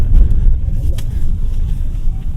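A Jetour T2 SUV's engine rumbles steadily and builds as it accelerates, a continuous low roar heard from inside the vehicle.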